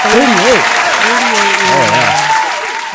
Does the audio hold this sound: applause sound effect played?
yes